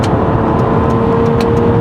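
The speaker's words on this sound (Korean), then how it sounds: "급가속 해보니까 고회전 써보니까 엔진 소리가 괜찮네요 아직까지" A 2003 SsangYong Chairman CM600S engine runs at high rpm under hard acceleration, a loud, steady drone with a sustained tone, heard from inside the car.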